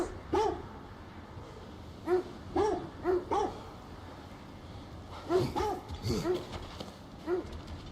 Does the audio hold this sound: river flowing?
no